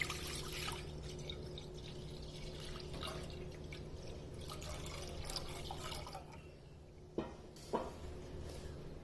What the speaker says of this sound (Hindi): अब फ्लेम पर पैन रखना है और उसमें दूध डाल देना है।